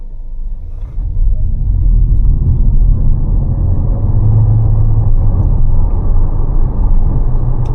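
A 2025 Mazda 6e range-extender EV drives in mix mode, with a steady, loud, low road and engine rumble inside the cabin that rises slightly after the first second and then holds even, without any speech.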